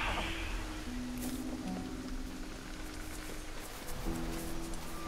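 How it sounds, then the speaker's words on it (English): Steady rain falls across the whole span in Middle-earth: Shadow of Mordor, a continuous hiss over a faint low tonal hum, with no voices. "it's raining"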